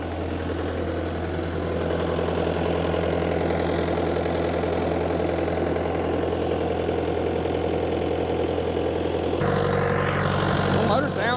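A Bobcat T300 skid steer engine idles steadily nearby with a low, even diesel rumble and hum, a slight change in tone toward the end, while a person talks over it.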